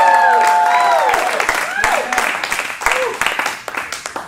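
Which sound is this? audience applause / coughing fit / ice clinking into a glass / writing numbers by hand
audience applause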